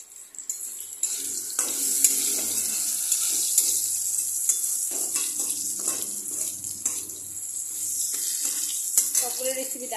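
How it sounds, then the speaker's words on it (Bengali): Eggplant pieces fry in oil tempered with black cumin seeds, giving a close, bright sizzle with irregular stirring scrapes and clatters over about ten seconds. "এখন আমি এখানে কালো জিরা ফোড়ন দিয়ে বেগুনটাকে ভেজে নিচ্ছি।"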